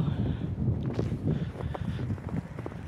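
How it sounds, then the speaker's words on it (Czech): Wind blowing outdoors during snowfall, a steady low rumble of gusts buffeting the microphone, continuous and fairly loud throughout with no clear talking. "fouká ten vítr"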